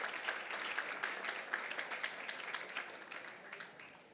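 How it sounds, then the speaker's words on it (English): A crowd at a charity evening applauds in a dense, even wash of clapping that slowly fades, heard from a distance and quite faint. "Give everybody a round of applause that's doing this major contribution for you this evening."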